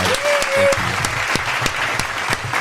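A short canned applause effect, a bright wash of clapping with a few sharper claps standing out, runs for a couple of seconds while a voice briefly speaks over its opening.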